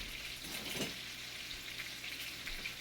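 Salisbury steak patties sear in a hot pan, a constant close sizzle and crackle with a brief scrape of a spatula near the start, steady throughout and without talk.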